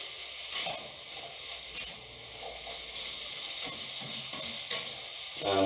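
Precooked potatoes and peppers sizzle in a frittata pan, a soft, steady hiss with faint occasional stirring clicks, moderately close and fairly quiet.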